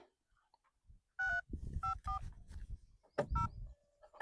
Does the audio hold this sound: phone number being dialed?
yes